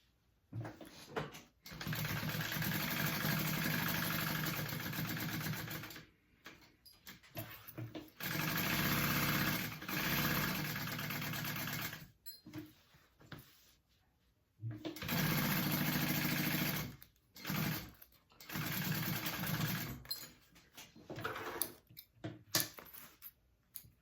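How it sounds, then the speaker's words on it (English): A sewing machine bastes an exterior panel for a small crossbody bag, running in several loud, steady bursts of rapid stitching separated by short pauses. "I'm gonna baste that onto my exterior back panel here, or front panel."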